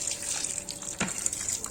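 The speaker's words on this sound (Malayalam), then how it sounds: "ഇതിലേക്ക് ചെറിയ ചൂടുവെള്ളം ആവശ്യത്തിന് ഒഴിച്ചു കൊടുക്കണം" Hot water poured into a date pickle mixture in a pan: a short liquid gush with a brief splash in the middle, heard close up and fairly quiet, with no talk.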